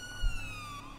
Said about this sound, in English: Sirens are on now!